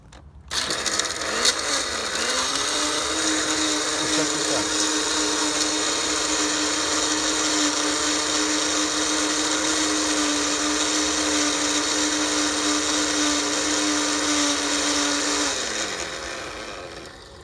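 Eggshells are crushed in a blender: the motor spins up into a loud, steady high whir with a gritty grinding edge, holds for about fifteen seconds, then winds down.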